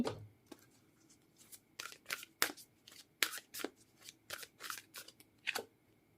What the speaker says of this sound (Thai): อันนี้จะต้องขอไพ่เพิ่มเติม